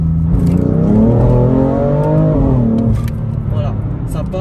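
BMW M3 Competition in sport plus mode accelerating hard down a straight with wheelspin, its engine note climbing loudly and steadily close by, while someone talks over it.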